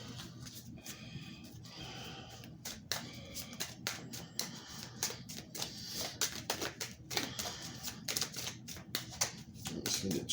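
Tarot cards are handled and straightened close by, with quick irregular shuffling, tapping and flicking noises over a faint background hum.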